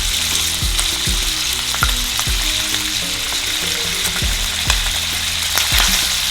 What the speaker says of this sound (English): So the oil is getting hot. I'm gonna go ahead and add in the turkey.